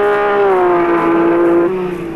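A 1983 race car at Bathurst is driven flat out near the top of the mountain, its engine giving a loud, steady high-pitched howl that holds for about two seconds and then eases slightly.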